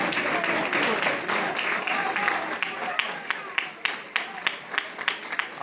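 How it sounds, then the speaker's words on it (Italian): Football crowd in a stadium applauding during a Nardò versus Cerignola match, dense sustained clapping that thins into scattered individual claps toward the end, with a commentator's voice over it. "Applausi non si sa per chi"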